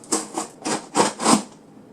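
Scissors snip and slice through a book package in five quick, close strokes, each a crisp papery rasp, with quiet between them.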